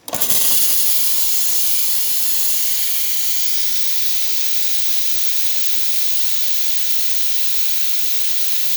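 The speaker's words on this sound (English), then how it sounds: "then I'm going to test the steam." The steam wand of a freshly serviced Nuova Simonelli Oscar 2 espresso machine hisses strongly, opening with a sharp burst and then holding a steady, loud, airy rush for several seconds without letting up.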